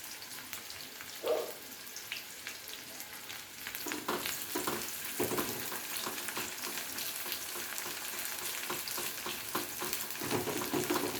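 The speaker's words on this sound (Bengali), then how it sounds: "প্রথমে পেঁয়াজটাকে একটু হালকা করে ভেজে নেব।" Onion sizzles in hot oil with nigella seeds and two dried chillies, a soft steady crackle with scattered pops and stirring clatter, fairly quiet and close, growing busier partway through.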